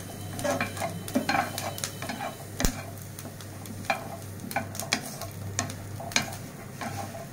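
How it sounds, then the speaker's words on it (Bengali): Green chilies, onion and garlic dry-roasting in a pan without oil, with frequent sharp scraping and clacking strokes of a spatula over a soft, low sizzle. "এভাবে করে কাঁচামরিচ পেঁয়াজ রসুন একসঙ্গে টেলে নিতে হবে।"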